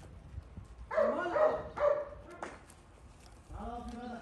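Several feral dogs bark and yip in short bursts while feeding on a calf, rough loud barks clustered early, then quieter growling sounds, with some voices in the background.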